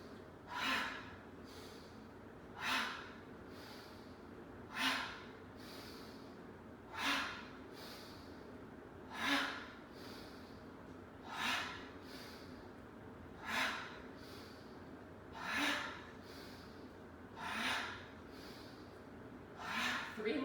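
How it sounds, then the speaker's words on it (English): Yoga breathing, a person exhaling through the open mouth with a breathy "ha" about every two seconds, ten soft even breaths in a steady rhythm, close and quiet. "open the mouth and make the sound ha"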